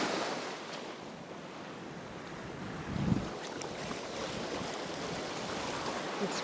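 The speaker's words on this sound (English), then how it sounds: "If the wind wasn't so strong, it'd be a lot easier." Strong wind buffets the microphone beside open water during a fishing trip, a steady broadband roar with a brief louder gust near the middle and no voices.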